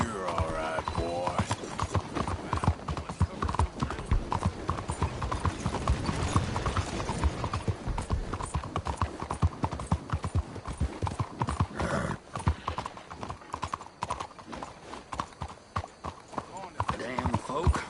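Horse hooves clip-clop steadily in a cowboy video game, with an occasional whinny and game voices and sounds layered over the footfalls throughout.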